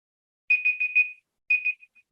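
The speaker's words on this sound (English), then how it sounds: "little timer's just gone off" A small meeting timer goes off with two short bursts of rapid, high electronic beeps, clear and close in an otherwise quiet room.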